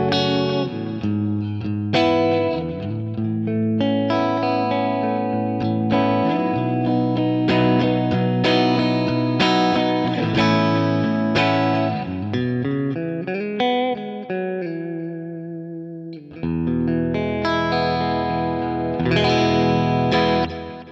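A Suhr Alt T Pro electric guitar with Thornbucker pickups split to single-coil tones, played through effects including chorus and distortion: strummed chords and melodic runs, bright and full, ringing alone without talk.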